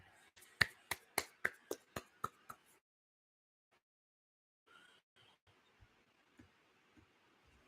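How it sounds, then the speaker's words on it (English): Soft golf-style clapping from one person, a quick run of about seven light, close claps that stops abruptly, followed by near silence with a few faint taps and small background noises. "Golf clap."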